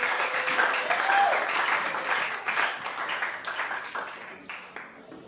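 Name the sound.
congregation applauding for Jesus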